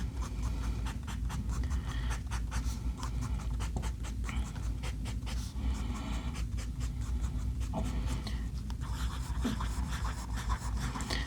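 A Benu Cocktail Hour Mojito fountain pen scratches across paper in a steady run of quick, close nib strokes with short pauses between words, no talk.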